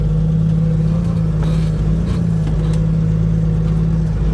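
A truck engine pulls away in first gear, giving a loud, steady low drone with a rough idle-like rumble and faint clatter, close by and continuous throughout.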